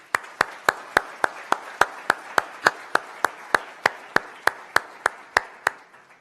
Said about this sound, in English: let's have a round of applause for all of our sponsors.